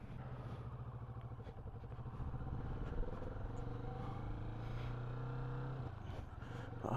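A Kawasaki Vulcan S 650 motorcycle out on the street, its engine a steady low rumble heard up close, rising a little in pitch midway before easing off near the end.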